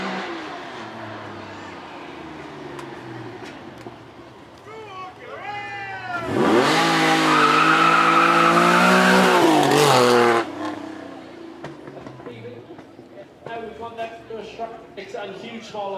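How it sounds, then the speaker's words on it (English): A TVR Tuscan with a 4-litre straight-six engine is blipped and revved hard, rising to a loud sustained howl for several seconds before dropping back, with people talking and crowd noise around it at a car show. "Should have the 4-litre straight 6 in this. Let's hear it howl."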